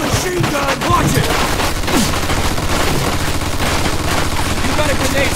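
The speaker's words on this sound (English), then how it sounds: "We found a machine gun! Watch it!" Machine gun fire in a World War video game, sustained rattling bursts with booms in a busy battle mix while voices shout over the shooting.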